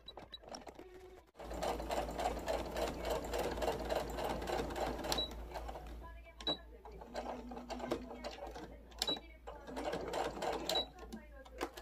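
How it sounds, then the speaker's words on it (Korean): A sewing machine runs finishing stitches along a brimless hat, its steady mechanical rattle coming in repeated bursts with short pauses and a low hum beneath, close and clear. "마무리 박음질 합니다."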